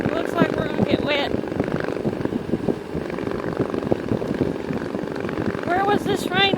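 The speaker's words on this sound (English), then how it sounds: "And we're getting some rain." Rain falls outdoors as a dense, continuous patter with wind rumble, while people talk over it.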